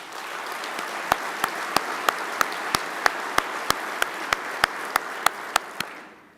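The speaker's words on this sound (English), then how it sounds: "So I want to give them a round of applause." A large audience at a fire and rescue conference's general session gives a sustained round of applause, a dense wash of clapping with a few sharper claps standing out, tapering off at the end.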